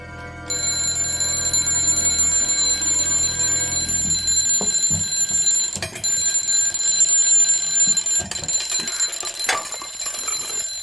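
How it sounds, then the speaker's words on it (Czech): A shrill alarm clock rings continuously and loudly for the whole stretch, with thumps and clatter beneath it in the second half. "Co pak se ten budík zbláznil?"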